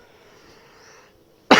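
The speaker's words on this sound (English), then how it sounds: "Oh, a little cough." After a near-silent stretch, a single short, sharp cough bursts out at the very end, close and loud, during Bloons TD Battles gameplay.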